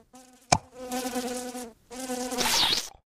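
A fly buzzes loudly and close in the horror video game Mitoza, two long droning passes separated by a short pause, with a sharp click before the first.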